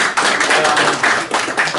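Audience applause at a West Virginia talk, a steady wash of many hands clapping at close range that fills the whole moment with brief dips, and no voices on top.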